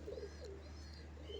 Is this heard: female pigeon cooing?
yes